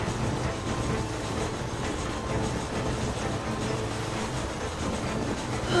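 A train in the video game Red Dead Redemption rumbles along steadily, its engine and wheels making a loud continuous roar with a faint rhythmic clatter and no pauses.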